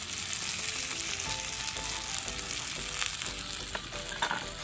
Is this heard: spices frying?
yes